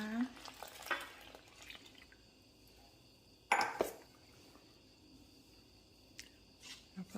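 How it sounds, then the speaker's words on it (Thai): Ingredients and seasoning sauce being stirred and mixed together in a bowl for fried taro wrapped in tofu skin, with soft scraping and squishing strokes spread across the clip and one louder knock midway. "ลุกเคล้าส่วนผสมให้เข้ากันดีค่ะ"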